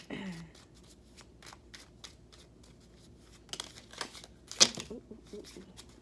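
A deck of cards is shuffled close by, giving a quiet run of rhythmic riffling flicks followed by a brief louder burst of ruffling and snapping near the end, with no talk.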